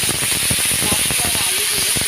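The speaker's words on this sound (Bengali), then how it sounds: "ফোড়নে দিলাম সাদা জিরে, 5 ফোড়ন আর কাঁচা লঙ্কা।" Cumin, five-spice and green chillies sizzle in hot oil, a steady loud hiss with crackling pops running throughout, with a voice murmuring over it.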